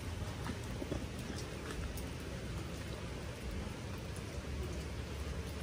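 Rain falls on a construction site where a house is being built, a soft, even hiss of drops with a few brighter patters, quiet and continuous, with no voices.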